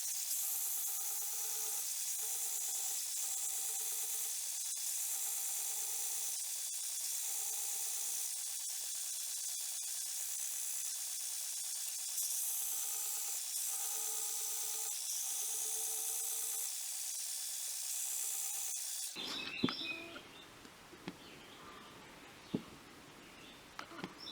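Handle scales of a knife pressed against a running belt grinder, a sustained harsh grinding hiss that pulses slightly as the pieces are worked, for about nineteen seconds before stopping into faint workshop clatter.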